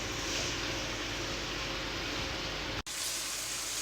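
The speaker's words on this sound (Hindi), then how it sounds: "चलें जी, इसकी हम अच्छे से मिक्सिंग करते हैं और इसको हम हल्का सा फ्राई कर लेंगे।" Chicken sizzling in a pan while being lightly fried for black pepper karahi, a steady broadband hiss that holds at near-constant loudness, broken only by one brief cutoff near the end.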